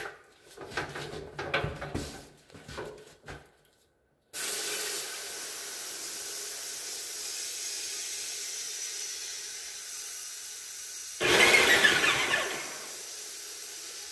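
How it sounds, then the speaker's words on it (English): An airless paint sprayer, pressure turned all the way down, shoots the last of the paint from its hose into a bucket: a steady loud hissing spray that runs for several seconds and swells into a harsher burst near the end. "we're going to shoot the last of the material from the hose into the bucket."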